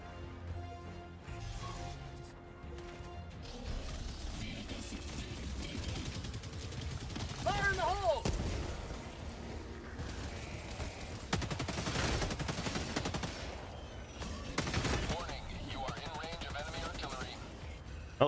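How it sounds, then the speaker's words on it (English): Heavy gunfire and explosive bursts in Helldivers 2, where an enemy mortar fires repeatedly in a dense, loud battle with crashes and impacts throughout and no clear voices. "Oh, that's an enemy mortar."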